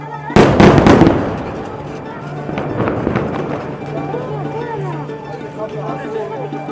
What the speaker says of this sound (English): This is just an airstrike now that you've heard.